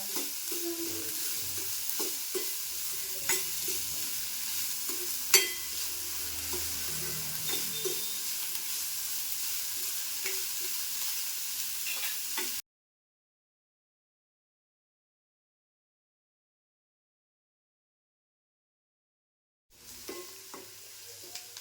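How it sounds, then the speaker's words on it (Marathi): Chopped onions sizzle and crackle in a hot pan for a tomato chutney while a spatula stirs and scrapes them soft, with steady close frying noise, a sharp clink, then a long silence before the sizzling briefly returns. "कांदा ना मऊ करून घ्यायचा"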